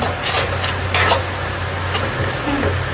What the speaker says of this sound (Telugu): వర్షిత్ గారు మంచిగా కలపండి